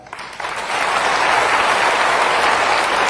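Audience applause at a personal development seminar, starting with scattered claps and quickly swelling into a dense, steady ovation that fills the room, close and loud.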